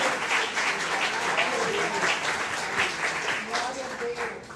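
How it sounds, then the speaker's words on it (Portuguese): A church congregation applauds in a dense, sustained wash of clapping that holds steady at close range for several seconds, with no talk over it. "Uma salva de palmas ao Senhor"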